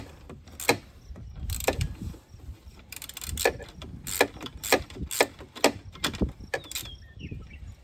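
A ratchet socket wrench clicks during a cruise control install on a Chevy Express cutaway van: uneven handling noise at first, then a run of sharp, evenly spaced ratcheting clicks close up, with no talk.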